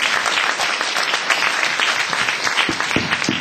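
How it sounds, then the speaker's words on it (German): Loud, close audience applause at a congress in Alsfeld, a dense burst of many hands clapping with sharp individual claps standing out, sustained without break. "Einen großen Applaus,"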